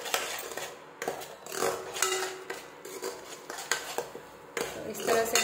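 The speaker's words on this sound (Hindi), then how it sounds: "इसे अच्छी तरह से भून लेंगे" A spoon stirs and scrapes salted masala roasting in a kadai for butter paneer, giving irregular metallic clinks and scraping bursts against the pan, close and moderately loud, with no speech.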